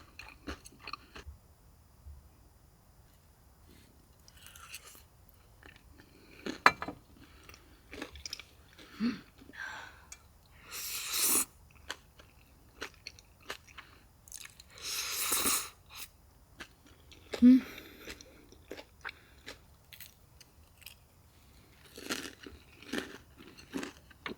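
Close, intimate chewing of crunchy cheese-filled tonkatsu, eaten at a campsite: irregular crisp bites and crunches with soft wet squishes and pauses between mouthfuls.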